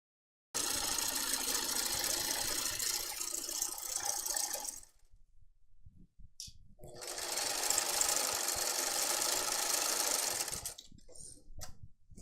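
Sewing machine stitching the side seams of a fabric top: two long, loud runs of rapid mechanical whirring and rattling, split by a short pause with a few faint handling clicks, and brief bursts near the end.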